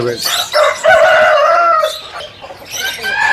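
An Aseel rooster crows loudly and close by, a long drawn-out call followed by another, with some clucking and faint background voices at a rooster market.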